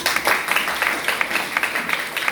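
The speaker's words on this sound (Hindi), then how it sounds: "एक बार जोरदार तालियां बजा दें।" Audience applause at a business seminar, a dense patter of many hands clapping steadily for a couple of seconds, fairly close and without talk over it.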